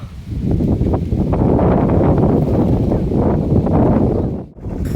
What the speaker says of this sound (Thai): ทั้งลมทั้งฝนพี่น้องเอ้ย